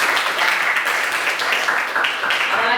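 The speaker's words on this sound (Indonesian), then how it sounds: "Tepuk tangan." A classroom group applauding during a lesson, with steady dense clapping from many hands, close and fairly loud throughout.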